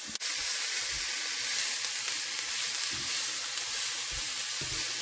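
Cabbage and carrot hitting a hot Ninja Neverstick skillet with very little oil, producing a loud, continuous close-up sizzle and hiss, with a few soft thumps of vegetables landing and no talking.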